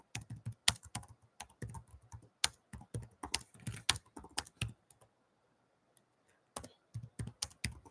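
Rapid keystrokes on a computer keyboard while typing a chat reply, an irregular clatter of close, crisp clicks in bursts, pausing for about a second before a final flurry.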